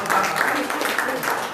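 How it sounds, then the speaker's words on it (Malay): An audience at a casual Malaysian talk session applauds two religious teachers with steady, dense group clapping. A voice or two is also faintly mixed in. "kita bagi tepukan kepada Ustazah Sadia dan juga Ustaz Abu"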